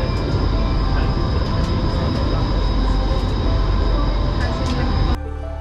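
Metro train at the Haliç metro stop in Istanbul: a loud, continuous rumble of rolling carriages with a faint high whine, which cuts off abruptly near the end.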